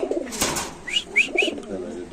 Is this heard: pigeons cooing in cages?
yes